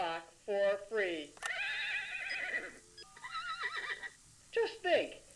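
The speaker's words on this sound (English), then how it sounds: "Just think, every hour a different horse sound" Horse neighing and whinnying from a novelty horse clock, several separate bursts with short pauses between them, clear and close against a quiet background.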